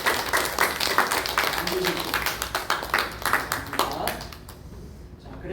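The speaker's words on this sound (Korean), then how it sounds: "두 분 우리 우리 힘차게 격려와 응원의 박수를 드리겠습니다." A church congregation applauds two elders standing during a worship service, producing a dense crackle of clapping hands that fades out near the end, with a voice speaking over it.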